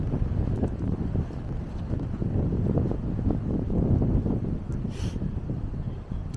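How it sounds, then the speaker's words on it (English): Gusty December wind buffets the microphone outdoors at Symonds Yat in the Forest of Dean, Gloucestershire, a loud, rumbling, continuous roar with a brief hiss near the end. "It is windy,"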